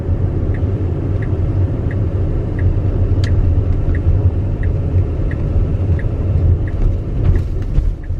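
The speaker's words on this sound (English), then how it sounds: "Oops, I'm thinking somebody was speeding down Main Street." Car passing along a town main street on a damp, misty day, a loud continuous road rumble heard from nearby with a faint regular ticking behind it and no talking.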